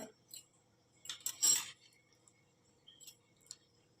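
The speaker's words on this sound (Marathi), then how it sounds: "चमच्याने चेक केल्यावर चमचा सहज असा गेला की समजायचं आपले वेपर शिजले आहेत" A spoon clinks and scrapes against potato wafers in a cooking pot, a few brief metallic taps with a louder scraping burst in the middle, close and otherwise quiet.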